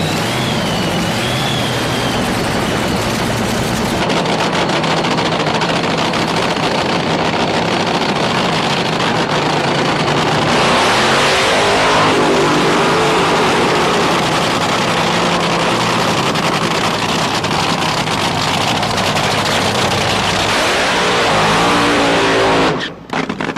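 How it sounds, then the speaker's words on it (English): Two top fuel dragsters do short burnouts side by side at a drag race, a loud, continuous, close engine roar with tire noise that holds steady before cutting off abruptly at the end. "we've got a pair of relatively short burnouts here"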